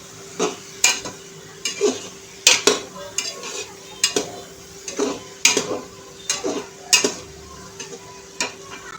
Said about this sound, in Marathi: 1 वाटी बटाट्याचे तुकडे। भाज्या छान अशा परतून घ्यायच्या आहे।